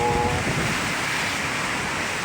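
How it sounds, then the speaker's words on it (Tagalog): Steady, roaring wind from a typhoon in Iriga City buffets the microphone, a dense wash of rushing air that stays loud and constant throughout, with no speech. "palakas na ng palakas yung hangin"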